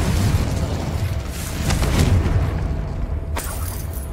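In the Hogwarts Legacy video game an Incendio fire spell goes off with a loud whooshing burst, its fiery roar fading over a few seconds, followed by a sharp crackling flare near the end.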